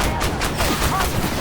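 Tank cannon fire in the Armored Warfare video game, aimed at a light tank: a few sharp shots burst out over a dense, continuous roar of battle noise.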